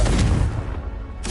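A Confringo spell explosion in the video game Hogwarts Legacy, a single short booming blast that quickly decays, with a brief bright burst near the end.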